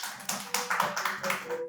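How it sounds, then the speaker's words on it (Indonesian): Applause from a small group welcoming a guest speaker at an Islamic school gathering: short, close bursts of clapping lasting under two seconds. "Tepuk tangan dong untuk Pak Wildan"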